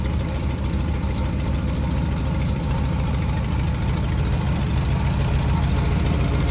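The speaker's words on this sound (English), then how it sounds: "Doesn't sound too bad, besides that exhaust leak there." 1957 GMC 370 fire truck engine idling with an exhaust leak from a blown exhaust donut, a steady loud rumbling idle with a rapid ticking, puffing chatter running throughout.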